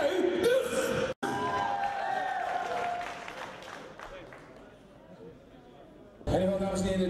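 At a boxing event in Mijdrecht, an audience applauds and cheers as a boxer is introduced, with an announcer's amplified voice over the crowd noise, which fades midway and then surges back loudly near the end.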